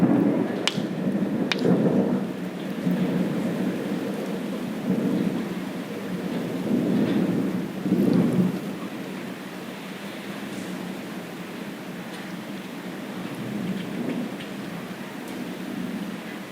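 Steady rain with repeated low rumbles of rolling thunder during a rainy-season storm, a continuous wash of rainfall with the heaviest rumble partway through and no voices.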